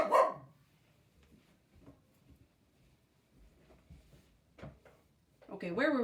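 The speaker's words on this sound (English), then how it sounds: "Hopefully that dog will be quiet now." A dog barks in the distance, faint single woofs scattered under a person reading a story aloud indoors, with a louder yelp near the start and voices rising at the end.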